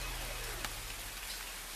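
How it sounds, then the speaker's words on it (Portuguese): Gentle rain falls steadily in the mountains, a soft, continuous patter of drops with a faint low rumble beneath and no voices. "Tá chovendo, mansa, boa."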